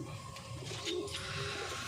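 Domestic racing pigeons coo softly close by, a low rolling call over a faint steady background hum, with no talk.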